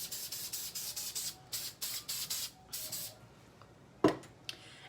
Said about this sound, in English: And I'm gonna spray the hair.